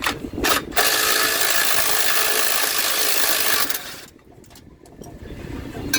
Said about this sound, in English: Some of the bolts were seized and stripping, so we got the sawzall out.